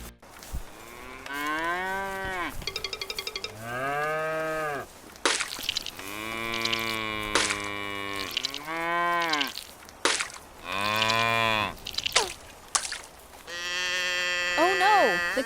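A cow moos again and again, up close and loud, with long drawn-out calls of varying pitch separated by short pauses, alongside a few higher bleating cries.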